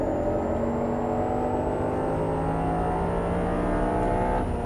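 An Audi R8 V10 runs on a track in Las Vegas with a steady, smooth engine tone that holds its pitch under throttle, with a thin high whine above it.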